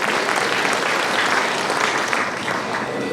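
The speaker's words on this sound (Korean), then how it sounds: "박수 부탁드립니다." Steady applause from an audience at a year-end party gathering, dense continuous clapping held at an even level throughout with no speech on top.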